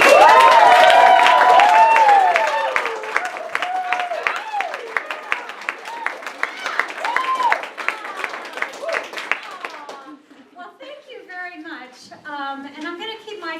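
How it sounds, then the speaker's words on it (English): An audience at a student teacher forum claps in a long steady round of applause for the speaker, loud at first and then thinning into scattered claps as it fades. "let's give a round of applause"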